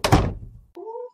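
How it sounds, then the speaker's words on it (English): A door swings shut with a single heavy thunk at the start, fading into a short tail, followed by a brief tonal squeak. "Someone close the door"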